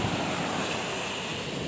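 Sea waves surge onto Alappuzha beach after heavy rain, making a continuous broadband roar of surf with wind buffeting the microphone and no voices.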